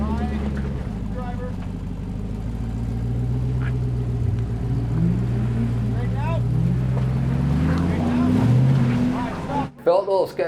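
An off-road rig pushes onto a rock crawling obstacle at Windrock, its engine droning and rising in pitch as it climbs, close and fairly loud, with voices talking over it before it cuts off sharply near the end.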